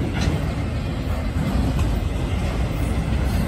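A northbound CSX C887 coal freight train with white end coal tubs passes in Glendale, Ohio, as a close, loud, unbroken roar and rumble with no voices.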